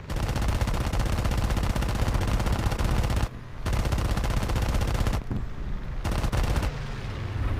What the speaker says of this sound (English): this thing has like the most powerful machine gun